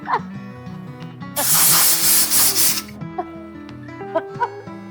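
A loud burst of aerosol spray hisses in short pulses for about a second and a half, over a background of music.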